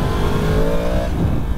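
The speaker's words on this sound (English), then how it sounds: "Oh, I love the noise of the MT-10." A Yamaha MT-10 super naked motorcycle engine revs up with a rising tonal whine over a loud, steady engine rumble, heard close and without voices.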